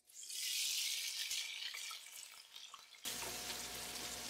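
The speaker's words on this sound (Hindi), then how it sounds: "उसके बाद इसके अंदर प्याज डालेंगे।" Onions frying in hot oil in a pot for homemade country chicken biryani give a steady, loud sizzling hiss up close, which shifts to a fuller, rougher crackle partway through, with no voices.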